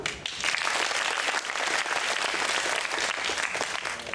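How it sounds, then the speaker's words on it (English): A crowd claps loudly and steadily throughout, a dense wash of applause with no talking. "give yourselves a round of applause."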